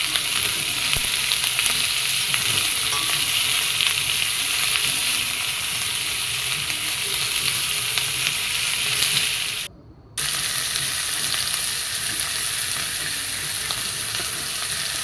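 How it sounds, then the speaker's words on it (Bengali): Potatoes and eggplant frying with salt in a pan, a steady loud sizzle with faint stirring scrapes running throughout, broken by one brief dropout near the end. "এখন আমি আলু বেগুনগুলো নুন দিয়ে ভালো করে ভেজে নেব।"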